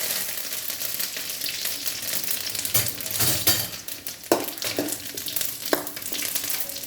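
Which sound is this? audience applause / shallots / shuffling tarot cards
shallots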